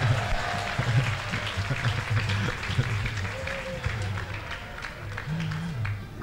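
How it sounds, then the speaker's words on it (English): An audience at a Lagos event claps, producing a brief burst of applause heard close with voices talking over it; the clapping stays moderate and continuous rather than building to a loud roar. "Can we give the women a round of applause"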